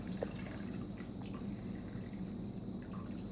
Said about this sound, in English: In this, I'm going to add my chicken stock.